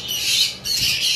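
Caged pet birds, a pair offered for sale at a bird shop, squawk in a continuous harsh, high-pitched chatter that dips briefly midway and then resumes loudly and close.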